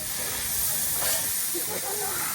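Onions and peppers sizzle in a pan during cooking, a steady broadband hiss running throughout at moderate, even loudness with no voices.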